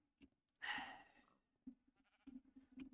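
Sheep bleat in Minecraft Infdev: one loud nasal bleat swells and fades, followed by softer clipped bleats and scattered low game thumps against an otherwise quiet background.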